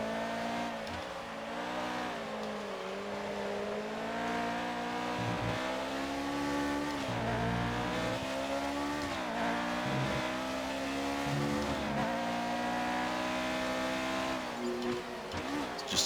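A Formula 1 car in F1 2019 screams through its gears, engine pitch rising and falling repeatedly as it brakes and accelerates, with brief tyre squeal, steady and close throughout.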